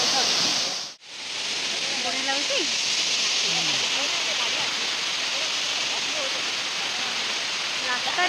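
A waterfall in Keonjhar, Odisha roars as a loud, steady rush of falling water throughout, with a brief dip near the start and someone talking over it.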